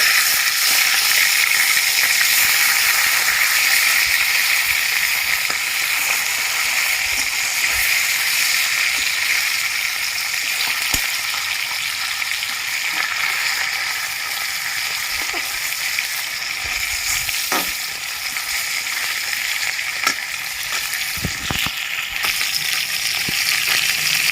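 Tilapia pieces fry in hot oil in a pan as they are turned over, giving a steady, loud sizzling hiss throughout with a few faint clinks and scrapes.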